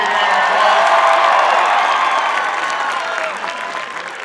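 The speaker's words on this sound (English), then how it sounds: "Give her a big round of applause." A large crowd at a political rally breaks into loud, sustained applause and cheering with scattered whoops, slowly fading over a few seconds.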